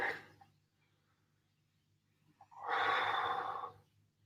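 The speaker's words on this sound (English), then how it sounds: "Big deep breaths." A person takes a deep, audible breath during a stretch in a home recovery workout, a single drawn-out inhale or exhale that swells after a quiet pause and stands alone, fairly close.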